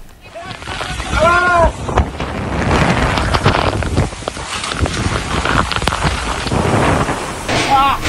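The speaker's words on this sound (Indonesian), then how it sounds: "Hujan deras disertai angin kencang memporak-porandakan tenda dan sejumlah peralatan di arena balap mobil" Heavy rain and strong gusting wind roar across a car racing arena in Gunung Kidul as tents and equipment are blown down, buffeting the microphone loudly while people shout and talk amid the storm.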